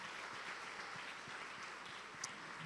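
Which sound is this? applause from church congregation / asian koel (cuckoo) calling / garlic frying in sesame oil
applause from church congregation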